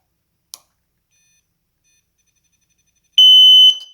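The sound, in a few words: gel/nerf flashing sound grenade going off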